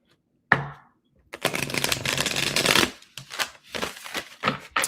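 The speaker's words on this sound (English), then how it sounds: "let me get a good shuffle" A brief riffle of tarot cards, then a longer continuous shuffle, followed by several quick snaps and taps of the deck, close and clear.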